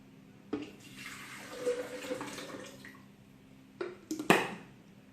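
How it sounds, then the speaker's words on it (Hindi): Water poured into a kitchen blender jar while making cherry juice, a steady splashing pour running for a few seconds, close and moderately loud, ending with a couple of louder splashes. "ब्लेंडर में सबसे पहले मैं पानी ऐड करूंगी।"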